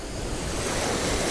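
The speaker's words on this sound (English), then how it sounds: "Little waves." Small ocean waves wash onto a beach in a brief, steady surf roar. Wind buffets the microphone over the top of it.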